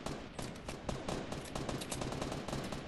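Rapid automatic gunfire from a Fortnite squad match, a dense run of fast cracking shots that continues unbroken and fairly loud throughout.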